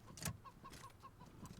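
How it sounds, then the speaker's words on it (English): A cyborg chicken in Wasteland 3 gives short, repeated clucks and chirps, fairly close and moderately loud, with a faint electronic whir running underneath. "Cyborg chicken."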